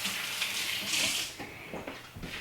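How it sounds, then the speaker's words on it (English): Hands being rinsed under a running kitchen tap, with steady hissing water and splashing that shifts as the hands move, close by and fairly loud. "Let me rinse my hands."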